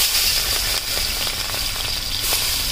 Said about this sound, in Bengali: আর ঝুরি ভাজার তেলে আমি নুন হলুদ মেখে রাখা চিংড়ি মাছগুলো ভেজে নিচ্ছি।